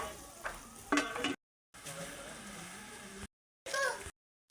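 Green chilies and ginger frying in a pan for a tempering, a close sizzling hiss with a few stirring knocks, interrupted by abrupt silent gaps; speech is faintly present in the background.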